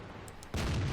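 The SU-100 tank destroyer's gun in World of Tanks fires once, a sudden loud boom that cuts in halfway through and rumbles on to the end after a quieter stretch.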